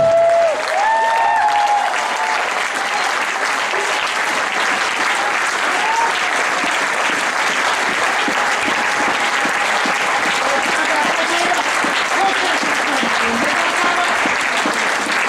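A church congregation claps and cheers for the Lord in a sustained wave of applause. It is loud and dense for the whole stretch, with crowd voices rising underneath.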